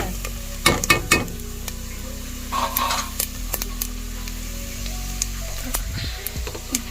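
Dried chillies frying in hot oil for a Tamil dhal sambar, with a steady sizzle, a few sharp spoon scrapes and clinks against the pan, and no talking.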